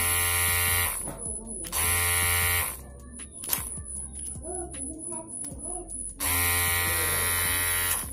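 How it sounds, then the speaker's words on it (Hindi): A Kemei 809a electric hair trimmer with a faulty switch buzzes loudly in close bursts, switching on and off several times, with a steady high whine and sputtering, uneven running between the bursts. "इसके बाद में ये ट्रिमर अपने आप मतलब काम कर रहा है"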